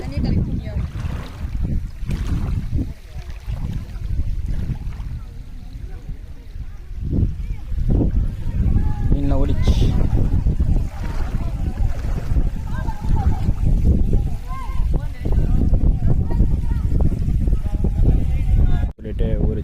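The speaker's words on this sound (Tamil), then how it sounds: "காற்று அடிக்கிறதுல கடலில் எப்படி அலை வருமோ அதேமாரி அலைலாம் வந்துட்டு இருக்கு பாருங்கள்" Wind-driven waves lapping on Chembarambakkam lake, a steady broadband wash with wind buffeting the microphone throughout, and people talking over it.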